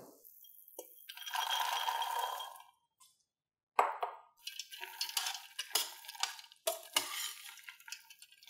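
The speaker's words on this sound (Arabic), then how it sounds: "حنطفو هلا الفستو وحنتم نحرك لحتى يتشرب كل السائل" A spoon stirs and scrapes through pistachios in bubbling syrup in a pot, with a stretch of sizzling, a brief pause, then irregular clinks and scraping strokes.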